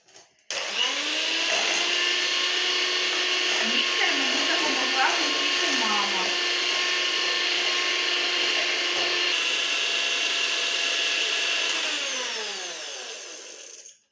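An electric mixer whips egg whites with vanilla sugar and regular sugar for homemade ice cream, a loud steady whine that holds its pitch and winds down at the end.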